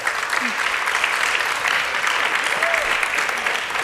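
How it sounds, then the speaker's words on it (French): An audience at the final of a verbal jousting contest applauds continuously, a dense, even wash of many hands clapping at a steady level, with faint crowd murmur underneath. "Je vous demande de les applaudir pour leur donner toute la force."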